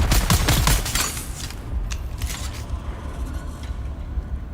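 Rapid bursts of automatic gunfire from the Dune Awakening video game, loud and dense at first, then thinning into scattered shots and mechanical clatter.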